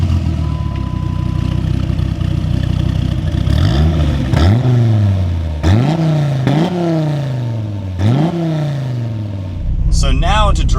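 A Dodge Viper's engine fires up with a push-button start and is blipped through a series of sharp revs, each rising and falling back to a deep idle, loud and close, with someone speaking over parts of it.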